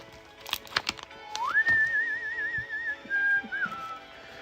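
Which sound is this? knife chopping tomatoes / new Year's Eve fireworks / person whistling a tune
person whistling a tune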